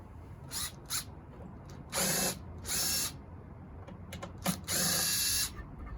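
Short bursts of a tool driving a 1/4-inch socket on a Tecumseh Snow King snow blower engine: two brief whirs, then longer runs about half a second each, separated by quiet pauses.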